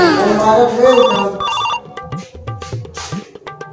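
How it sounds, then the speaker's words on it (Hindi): A telephone rings with a melodic ringtone in a rural Chhattisgarhi comedy setting, loud and close, with brief voice-like sounds mixed in toward the end. "बिजली ऑफिस वाला फोन है"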